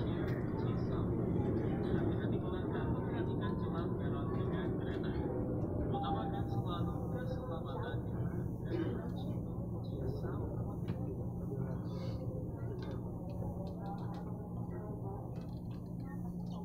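A KRL commuter train pulling out of Cisauk station, heard as a steady, close rumble that continues throughout, with talking over it.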